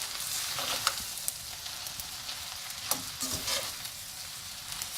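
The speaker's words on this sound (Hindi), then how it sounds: "अब ये सब्ज़ प्याज का जो ग्रीन पार्ट था ये डाल देंगे। इसको 2 स्पून से अच्छे से मिक्स करेंगे।" Chicken noodles with green onion tossed in a hot pan using two spoons, a steady close sizzle broken by scraping stirs and a few sharp clinks of metal.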